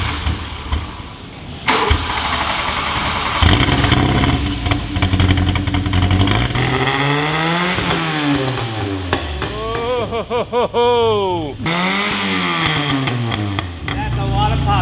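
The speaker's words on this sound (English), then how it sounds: "that's a lot of pops and bangs" A 1984 VW Scirocco engine revs repeatedly, rising and falling in loud, close sweeps, with sharp exhaust pops and bangs crackling between the revs while people talk over it.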